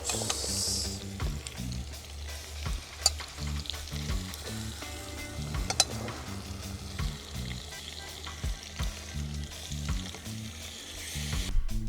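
Jamaican-style oxtails sizzle steadily in a hot pot, a dense crackling fry with intermittent stirring clatter and scraping, close and continuous without any talking.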